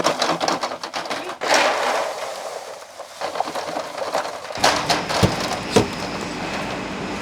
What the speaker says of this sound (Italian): Quindi con questo sistema separate le foglie dalle olive.